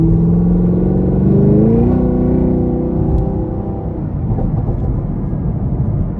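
A 2021 Chevrolet Camaro 2SS coupe's V8 with dual-mode exhaust revs up loudly and close, its deep rumble climbing to a peak and then easing back into a burbling, crackling settle with no talk over it.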